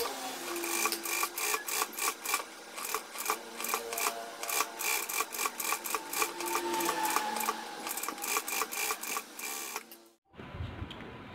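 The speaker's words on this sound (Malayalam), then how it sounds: "ഇനി ഇത് ഇതിലേക്ക് ഇതുപോലെ സ്റ്റിച്ച് ചെയ്ത് കൊടുക്കണം." A sewing machine stitches a churidar top in rapid, rhythmic bursts of needle clatter with brief pauses between runs, loud and close, then stops abruptly near the end.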